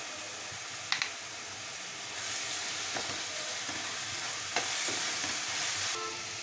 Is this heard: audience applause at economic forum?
no